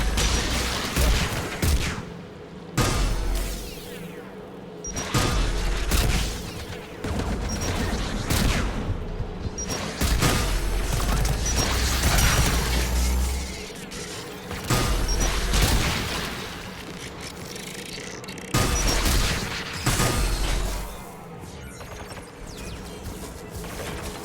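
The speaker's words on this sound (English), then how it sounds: "AA guns ahead of us." Anti-aircraft guns firing in Mass Effect 3, a dense, continuous barrage of loud booming shots with rumbling low end, heavy and unbroken throughout.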